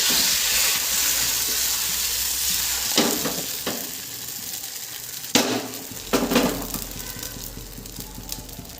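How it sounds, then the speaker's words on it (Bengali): Thin rice-flour dosa batter sizzles steadily across a hot pan, a constant bright hiss with a few sharper scraping taps from the spreading ladle, close up and with no talking. "একটু নাড়িয়ে এভাবে ব্যাটারটা ছড়িয়ে দিতে হবে"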